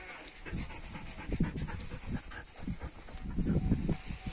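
Belgian Malinois shepherd puppies pant rapidly and steadily up close in a farm setting, with soft breathy bursts that swell and fade throughout, no talk over them.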